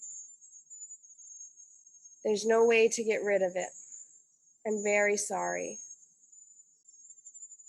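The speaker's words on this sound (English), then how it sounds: "The terrible buzzing noise is the cicadas." Cicadas buzz in the jungle as a steady high drone running through the whole stretch, with two bursts of talking over it in the middle.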